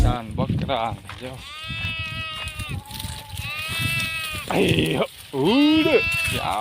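Goats being herded bleat loudly and repeatedly up close, their wavering cries overlapping, while a person calls out and talks among them.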